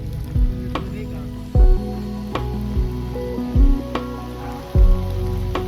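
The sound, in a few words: rain falling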